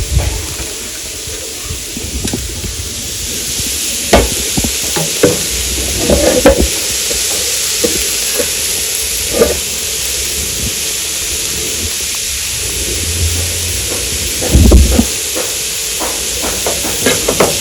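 Fried rice stir-fried in a pan, with a steady loud sizzle and hiss and repeated scraping, tossing strokes of a spatula throughout, close by and with no talking.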